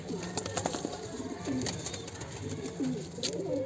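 Several Madrasi pigeons coo in short repeated phrases, fairly close, with some faint rustling and bird chatter around them.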